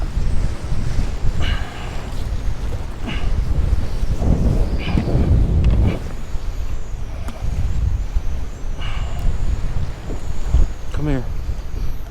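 Strong wind gusts batter the microphone on a beach at Surfside, Texas, buffeting loudly in surges over a steady roar, with occasional bursts of louder rumble and some faint background noise.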